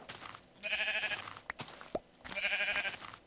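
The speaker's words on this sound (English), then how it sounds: "So I'll try to kill some more white sheep." Two clear sheep bleats from Minecraft, each a wavering nasal call lasting about half a second, separated by soft knocks and thuds of game action.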